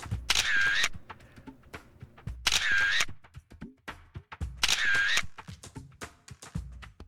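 Three bursts of rapid camera shutter clicking, each lasting about half a second, come at even intervals during a photo shoot of a Transformers figure. Quiet handling noise falls between the bursts.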